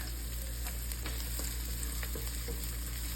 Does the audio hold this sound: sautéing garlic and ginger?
yes